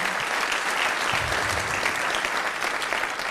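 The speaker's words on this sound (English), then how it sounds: "Please give them a big round of applause." An audience applauds guests during a presidential event on fatherhood, loud sustained clapping from a large crowd, even and continuous with a faint low murmur beneath and no distinct talking.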